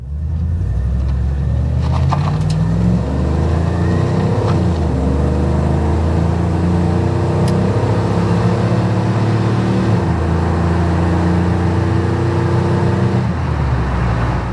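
A 1992 Chevrolet 454SS pickup with a 454 V8 and 4L80E automatic pulls away on a test drive, its loud steady engine drone climbing through gear shifts close inside the cab, with a brief passing vehicle at the start.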